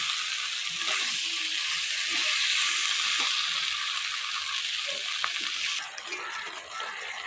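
Chicken for chilli chicken stir-fries in a pan, giving a loud, steady broadband sizzle with a few faint clinks, which drops quieter near the end.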